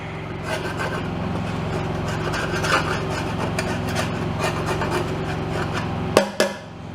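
Scraping accumulated oil and dirt off a RotoHoe tiller produces a steady, close rasping rub that continues throughout, ending with a couple of sharp knocks near the end.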